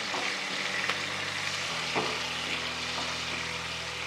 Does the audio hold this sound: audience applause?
no